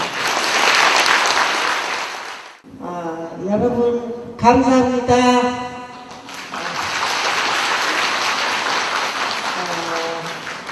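Loud, dense applause from a ceremony audience opens, breaks off while a voice briefly speaks over the microphone, then resumes and carries on steadily to the end.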